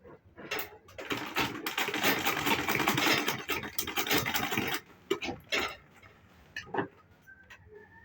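A sewing machine top stitching a strap pouch purse, running in a fast, steady mechanical chatter, then slowing into a few short stitching bursts and clicks.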